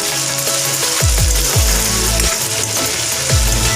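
Ginger and garlic hit hot oil alongside browning onions, giving a loud, continuous sizzle with scraping stirs and utensil knocks close by, and no talking.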